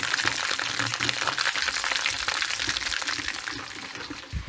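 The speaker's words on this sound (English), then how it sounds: "I can hear that wax Yeah. boiling over there" Wax boiling in a pot for reuse in Northern Ghana gives a steady broadband bubbling and sizzling hiss, close and continuous, with faint background voices.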